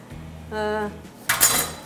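A knife clinks against a plate and dishes as cooked chicken is cut for a Buddha bowl, with a short scrape followed by a brighter clatter of cutlery near the end, close and fairly quiet.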